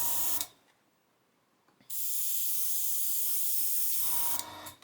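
An airbrush sprays thinned Tamiya acrylic paint close by. A loud steady hiss cuts off, leaves a short quiet gap, then returns for two more seconds before a brief drop in tone at the end. No one speaks.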